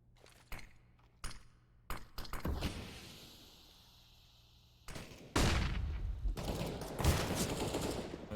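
Sharp pistol shots in Counter-Strike on the Mirage map: a handful of isolated cracks early on, then a denser burst of rapid firing near the end, moderately loud with no talk over it.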